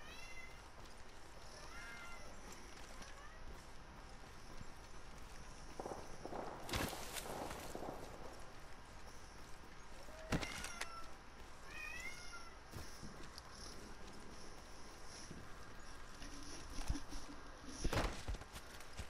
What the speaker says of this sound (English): Dang cat, dude.